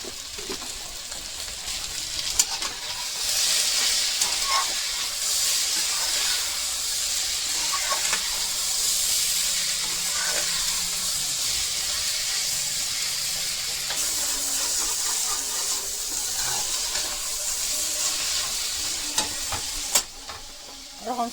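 Taro stolons (kochu loti) and potatoes with cumin powder and salt sauté in a pan with a continuous close sizzle and hiss, plus occasional light knocks of stirring.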